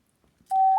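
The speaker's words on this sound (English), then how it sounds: "if we were to just go linearly through the frequencies, we get a sound like this." Near-silence gives way to a steady electronic tone from an iPhone synthesizer app sweeping linearly through frequencies, holding, then stepping up slightly in pitch, clean and close.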